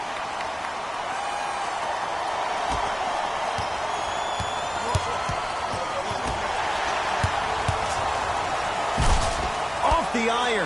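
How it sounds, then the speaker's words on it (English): Basketball slam dunk in a PS4 basketball video game, heard as a sharp slam amid arena crowd noise, with game commentators talking over the action and a few scattered thuds and bounces. "Off the iron. It came out. Mikal Bridges. Slam dunk"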